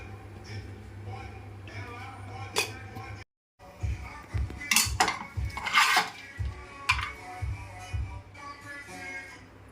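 Cooked rice being scooped and spread into a biryani pot, with close scraping, clinking and soft patting of a utensil against the pot, irregular and busy, with a brief silent gap partway through.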